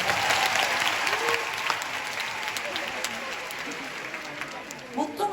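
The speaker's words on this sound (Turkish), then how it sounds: "Şimdi bu güzellik için çok büyük bir alkış istiyorum" Loud audience applause at a concert in Baku fills the whole stretch, a dense sustained clatter of clapping and crowd noise, with a few voices briefly rising near the end.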